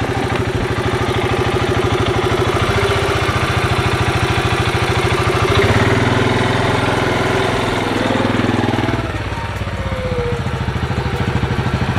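A vehicle engine idles nearby with a steady low throbbing rumble, continuous for the whole stretch with slight shifts in tone.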